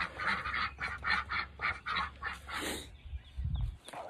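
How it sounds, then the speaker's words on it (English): Backyard farm ducks quack in a rapid, rhythmic series of loud nasal calls close by, followed by a low rustle and thump at the end. "Morning, ducks."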